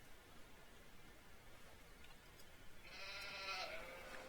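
A sheep bleats once in a farming video game, a single faint, wavering call rising over a steady hiss of background noise near the end.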